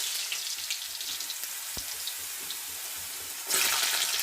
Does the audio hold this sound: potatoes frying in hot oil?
yes